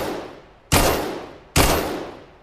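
Two loud, close handgun shots fire at a shooting range in the Vail VR video game, each a sharp crack with a long decaying tail, spaced under a second apart.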